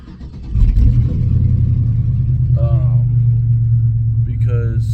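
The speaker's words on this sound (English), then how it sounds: "we're starting up the truck right now" A truck engine cranks and catches, then settles into a loud, steady low idle rumble close by, with a person talking briefly over it.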